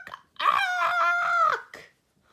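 A loud, crowing squawk from a blue jay, one sustained harsh call lasting about a second, close and alone with no talk over it. The voice may be imitating the bird.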